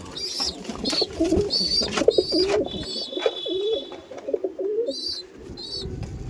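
Racer pigeons in a Kolkata loft coo repeatedly in soft, throaty bursts, overlapping with higher chirps and rustling, fairly close, with no talking.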